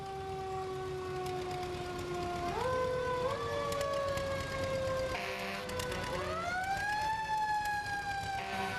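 Rescue truck siren at a 2008 White County Christmas parade, a loud wailing tone that holds steady, then steps up and sweeps upward in pitch, with parade noise beneath.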